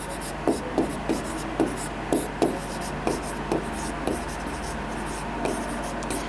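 A teacher writes shape names on a board in a maths lesson, giving a steady run of short scratchy strokes, about a dozen close, quiet taps and rubs over a faint room hum with no talk.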